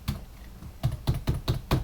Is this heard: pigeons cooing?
no